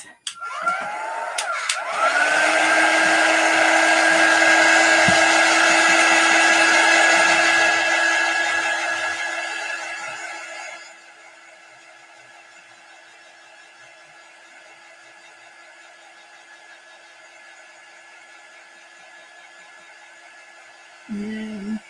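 A hair dryer blows on chalk-painted Halloween decor being upcycled, a loud steady whir that runs about ten seconds, then drops to a lower, quieter hum until it cuts off near the end.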